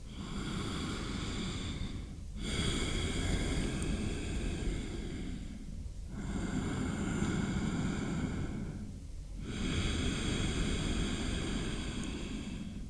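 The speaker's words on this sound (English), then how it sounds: "It makes for a kind of whispered sound in your breathing." Ujjayi pranayama breathing makes a whispered, hissing breath sound: three long, even breaths close to the microphone, separated by brief pauses, with faint music in the background.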